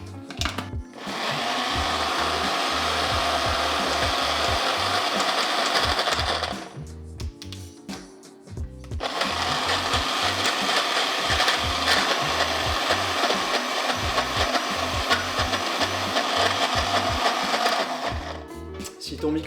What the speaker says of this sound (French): Et là maintenant, il n'y a plus qu'à mixer.